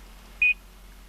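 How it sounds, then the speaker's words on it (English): A GPS unit gives one short, clean electronic beep as it receives satellite information, a single brief tone in the middle of near silence with a faint low hum beneath. "Now this unit should beep if it's getting proper information from the satellite."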